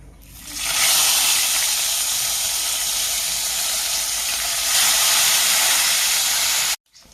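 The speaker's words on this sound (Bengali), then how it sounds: "তেল গরম হয়ে যায়, মাছগুলো ছাড়ছি" Fish dropped into hot oil for frying, a loud steady sizzle and hiss that starts abruptly, holds for several seconds with a brief swell midway, then cuts off.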